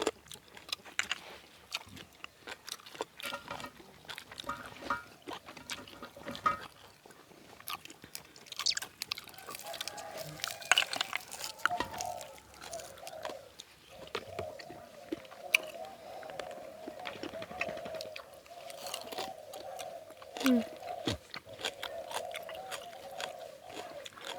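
Crunchy chewing of papaya salad with boiled apple snails, a continuous run of close, wet crunches and bites, with a faint voice murmuring underneath partway through.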